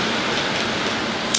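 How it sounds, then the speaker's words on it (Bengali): Evening rain falling outside, a dense, steady wash of hiss with no talk, close and fairly loud throughout. "ফাইনালি বৃষ্টি।"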